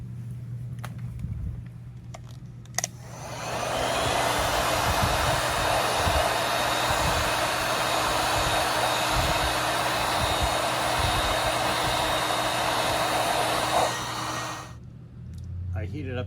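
Heat gun warming the last piece of a car's side view mirror glass, a steady close blowing hum that runs for about ten seconds, with clicks and handling noises before and after.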